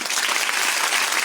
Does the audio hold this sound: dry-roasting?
no